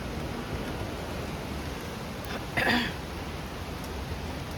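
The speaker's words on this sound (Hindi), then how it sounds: "बारिश मस्त है।" Monsoon rain falls steadily on a balcony, a continuous soft hiss throughout with one brief louder bump near the middle and no talking.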